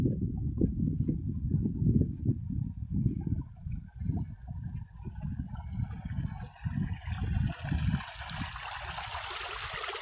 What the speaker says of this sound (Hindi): बहुत पानी का प्रेशर है।